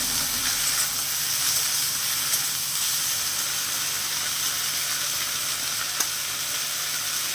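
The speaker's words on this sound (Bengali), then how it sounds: "এই ঢ্যাঁড়সটাকে অবশ্যই কড়ার মধ্যে তুলে দেবো তুলে দিয়ে ভালো করে একটু ভেজে নেবো" Okra sizzles in hot oil in a wok, a steady, close, even frying hiss with faint crackles that runs unbroken through the whole stretch, with no voices.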